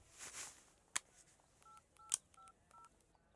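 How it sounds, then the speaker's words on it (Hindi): Telephone keypad tones beep one after another in a quick irregular sequence, with a few sharper clicks mixed in, fairly quiet. "चल भाई को फोन लगा।"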